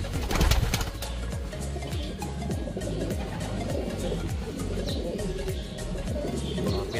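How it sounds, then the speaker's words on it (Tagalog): Racing pigeons at a mid-toss in Tayug, Pangasinan coo continuously nearby in soft, repeated low throaty calls, with occasional chirps and wing flutters. "Hindi hiningal yung mga ibon natin."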